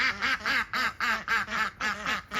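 A pet chicken called Mango gives a run of loud, close, rhythmic calls outdoors on a homestead on a fall morning, about nine harsh squawking bursts in steady succession with no talking.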